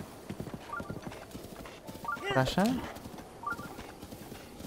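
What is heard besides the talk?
horse hooves clip-clopping, video game Zelda: Breath of the Wild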